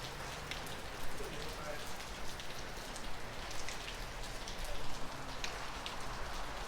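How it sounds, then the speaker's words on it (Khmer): Heavy, gusty rain pours steadily over Northern California, a dense continuous hiss of drops striking surfaces that swells slightly at moments, with no other sounds standing out. "អូលឺសូរទឹកភ្លៀងខ្លាំងហើយ"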